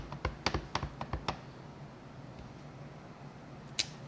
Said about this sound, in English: So I'm just going to stamp them on here.